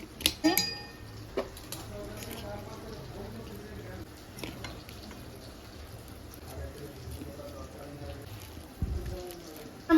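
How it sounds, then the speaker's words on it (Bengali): Boiled potatoes being mashed in a pot for potato spring rolls: soft scraping and occasional metallic clinks of a utensil against the pot, in a quiet home kitchen. "এবার আলুগুলো সামান্য একটু ম্যাশ করে নেব।"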